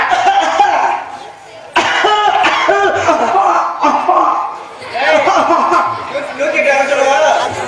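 Coughing from a couple of people at a live Tamil village stage drama, the Valli Thirumanam play, mixed with chuckles and laughter amid ongoing loud chatter and talk.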